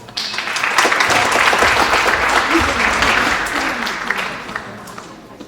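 Applause from a speech competition audience swells up quickly and carries on steadily for several seconds before easing off, with some voices mixed into the clapping.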